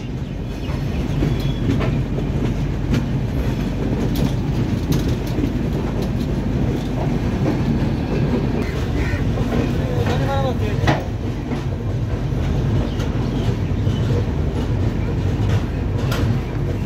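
A passenger train pulls into platform 3 at Rangapara North junction, a steady loud rumble of railcars with faint clickety-clack and squeaks running throughout, no voices.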